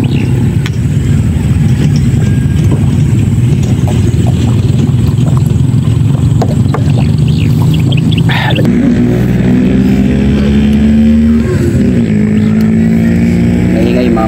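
Motorcycle engines drone steadily beside a roadside, with one machine revving and rising in pitch as it passes close by, loud and continuous under occasional voices.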